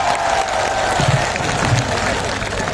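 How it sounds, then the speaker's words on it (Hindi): A crowd claps steadily in sustained applause at a Hindi poetry gathering held in a sports complex, a dense, even patter filling the room for a few seconds. "एक बार पूरा सदन दोनों हाथ उठाकर जोरदार तालियां बजाए"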